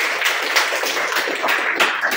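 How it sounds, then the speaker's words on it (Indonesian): A group in a classroom presentation session claps together, a dense stream of hand claps steady throughout the short stretch, fairly close and without speech. "Oke, tepuk tangan untuk semuanya."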